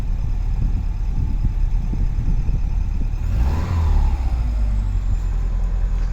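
A 2004 Subaru Impreza engine runs after a long sitting, with a steady loud idle rumble that swells briefly into a rev midway before settling back.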